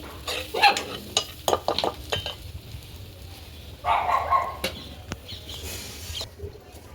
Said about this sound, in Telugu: కొంచెం మటన్ మసాలా ఒకసారి బాగా తిప్పుకుందాం